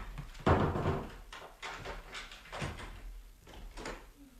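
A door is forced open during a stage performance of Beaumarchais's The Marriage of Figaro: several heavy thuds and bangs land at uneven intervals, with rattling and shuffling between them, fairly close in a reverberant room.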